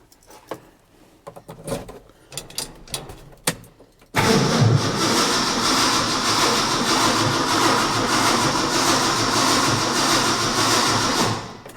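Ford F100 truck engine cranks and catches after the key turns, settling into a loud, steady idle that runs for several seconds, preceded by faint clicks and clunks from inside the cab.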